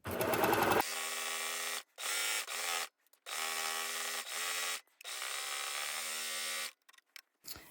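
A sewing machine stitches and trims a fabric edge with its built-in knife, running in several short whirring bursts separated by brief pauses, close and fairly loud, with no talk.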